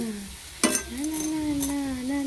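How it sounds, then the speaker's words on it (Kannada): Vada deep-frying in hot oil gives a soft, continuous sizzle, with a sharp clink near the start and a faint tonal hum running underneath. "ನಾನು ಡೀಪ್ ಫ್ರೈ ಮಾಡ್ಕೊತಾ ಇದ್ದೀನಿ."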